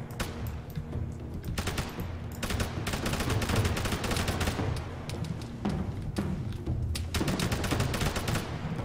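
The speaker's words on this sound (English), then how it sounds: "Ah, bullets are hitting me." Rapid gunfire and thudding bullet impacts in a shooter video game, with dense bursts of shots that are loud and near, repeating almost without a break through the whole stretch.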